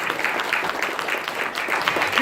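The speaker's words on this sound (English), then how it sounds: "Give them another round of applause." Audience clapping at a Christmas event in a church, a fairly close, steady patter of many hands sustained through the moment without a clear fade.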